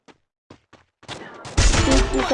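Gunfire in a shooting video game, a few faint isolated shots followed by a loud, sustained burst of rapid firing in the final second.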